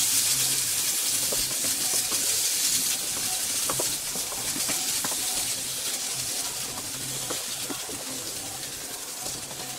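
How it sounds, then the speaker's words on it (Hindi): Khoya stirred and cooked in a pan over a low flame, a steady close hiss with soft scraping and small clicks running throughout, no talk. "इसके बाद मैं इसमें डालूंगी 250 ग्राम खोया और इसे मैं लो फ्लेम पे 4 से 5 मिनट के लिए चलाते हुए पकाऊंगी"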